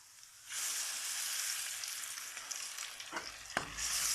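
Tomatoes tipped into ginger paste in a hot frying pan for chana dal set off a loud, steady sizzle, with a couple of sharp spatters and clatters of stirring near the end.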